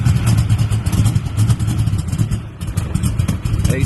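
A small block nitrous car engine, cold, running with a loud, lumpy, rhythmic rumble and clattering low pulses close by, with no voices.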